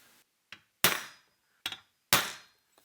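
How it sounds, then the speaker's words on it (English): Sharp metallic taps from a center punch marking hole positions ring out close by, in two pairs: a light tap then a harder strike each time, with short silences between. "we're going to get our center punch and"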